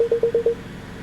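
A BMW X2 M35i sounds five short, evenly spaced electronic beeps in quick succession as a reminder to shift into park, clear and close inside the cabin before it goes quiet.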